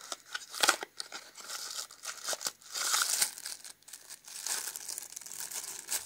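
Plastic bags crinkle and tear close by while a camera battery is unpacked, with irregular rustling bursts and brief sharp crackles running throughout, no voices present.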